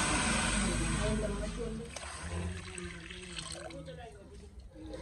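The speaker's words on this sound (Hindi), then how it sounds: "कढ़ाई में डालेंगे पानी, ये वाले एक गिलास चावल हैं, दो गिलास इसमें पानी डालेंगे चावलों को उबालने के लिए।" Water poured from a glass into a wok to boil rice, a loud splashing gush at first that settles into a trickle, with household noise beneath.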